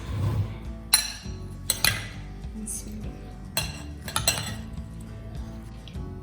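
A spoon mixing creamy fruit chaat with chopped dates in a bowl gives a few sharp, scattered clinks against the dish, fairly quiet, with soft stirring in between.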